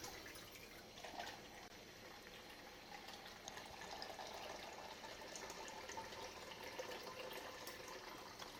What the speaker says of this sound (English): It's time to add some water to the mix, really.